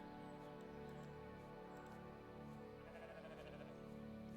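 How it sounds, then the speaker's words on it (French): Goats bleating in the farm game The Stillness of the Wind, a faint steady layer of animal calls over a continuous ambient game soundscape, no voices. "Ah, j'entends les chèvres."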